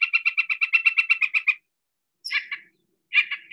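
A Northern Mockingbird mimics a flicker: a fast, even run of about fourteen loud, close notes, then a pause and two shorter burbling phrases, with no voices.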